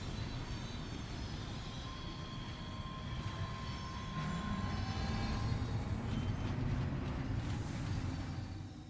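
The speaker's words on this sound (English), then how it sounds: "They also did a great job with the train sound effects." Train sound effects in the video game Death Stranding 2, a sustained low rolling rumble of rail cars with thin whining tones above, swelling slightly louder midway and easing off at the end, no speech.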